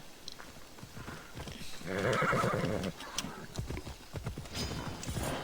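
A horse whinnies loudly in a video game, with rhythmic clip-clop of hooves before and after the neigh and faint voices talking underneath.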